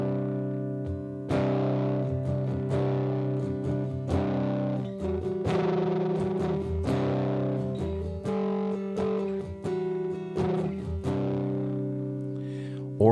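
Electric guitar played through a Fender Tweed amp emulation on a Universal Audio Apollo with Unison, sounding as a mildly driven, sustained run of chords and notes with strummed attacks, steady and clear.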